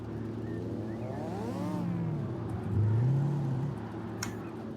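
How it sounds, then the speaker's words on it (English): A BMW's engine in a drifting video game, a sustained revving drone that climbs and falls in pitch as the car slides, with a short sharp click near the end. "Yogi's got the BMW out"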